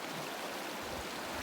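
Stream water flowing steadily at a backcountry trail crossing in the Bob Marshall Wilderness, Montana, a continuous broadband rushing wash heard close and alone with no voices.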